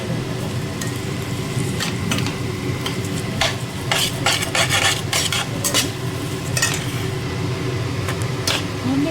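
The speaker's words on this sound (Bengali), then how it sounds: "এটাকে ভালো করে নাড়াচাড়া করে ভালো করে চালটা একটু ভাজা ভাজা করে নেবো" Rice for basanti pulao is stirred and toasted in a pan, with a continuous low sizzle beneath repeated scraping strokes of a spoon against the metal, each stroke a sharp rasp in an irregular rhythm, close and fairly loud.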